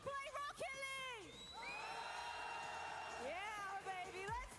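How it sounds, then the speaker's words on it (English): A live arena crowd at a Rocket League World Cup quarter-final between Morocco and the Netherlands cheers and whoops, with rising shouts swelling and falling continuously. "You are gonna cheer as loud as you can, okay?"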